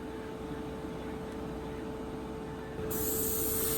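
An aerosol sprays clear coat onto a diecast Lotus model car during restoration, a steady close hiss that grows louder toward the end.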